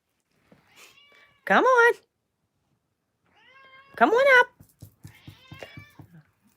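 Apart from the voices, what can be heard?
Persian cat meowing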